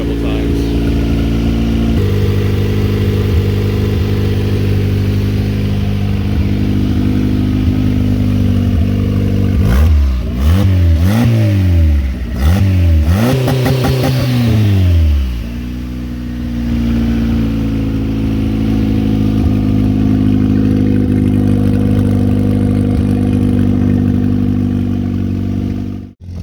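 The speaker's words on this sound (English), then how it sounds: "Up here and then I'll rev it up a couple times." Turbocharged H22A engine in a fifth-generation Honda Accord, loud and close, idling steadily before a few quick revs rise and fall midway, then settling back to a rumbling idle.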